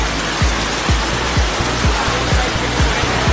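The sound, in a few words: floodwater and rain on flooded Tariq Road, Karachi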